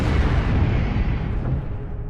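A heavy explosion aboard a whaling ship erupts as a dense, rumbling blast that fills the low end and slowly fades over about two seconds, loud and close with no voices.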